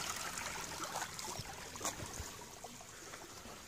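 Water from a garden pond filter trickles back into a school garden pond, a faint, steady burble with a few small splashes and no talking.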